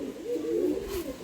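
A tournament pigeon gives a single soft, low coo, a brief rolling call heard close against a quiet background.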